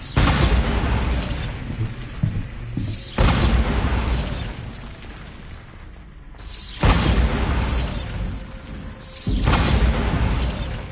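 Explosion spell cast in the video game Hogwarts Legacy, a series of loud booming blasts with crackling debris that repeat several times and ring out densely, no talking.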